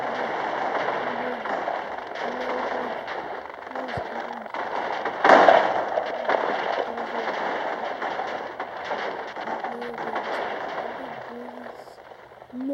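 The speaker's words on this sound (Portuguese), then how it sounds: "Olha o tamanho dessa explosão, galera." A big explosion bursts in a video game, a loud blast midway through a continuous crackling rumble, while someone talks excitedly throughout.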